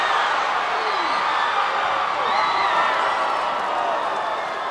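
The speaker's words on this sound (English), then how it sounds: "it was the Fijians in the crowd that were in the frenzy, with blue flags flying high amongst the crowd." A stadium crowd of Fijian rugby league fans roars in a dense, continuous wash of cheering and whoops, with scattered shouts rising out of the steady din.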